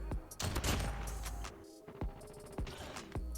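Kilo Bolt Action rifle shots in the COD Mobile video game, several sharp loud cracks spaced about a second apart, each with a short echoing tail, amid background game noise and no talk.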